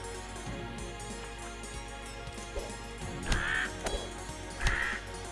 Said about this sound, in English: So crow, or raven, even.